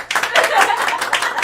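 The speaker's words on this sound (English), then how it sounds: "y'all clap for the dads, clap for the dads" Audience clapping for the dads at a Father's Day panel, a short burst of scattered clapping mixed with voices and a chuckle.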